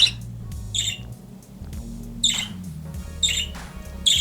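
Short bursts of high, squeaky bird calls repeat about every second and a half, standing out over a low steady hum beneath them.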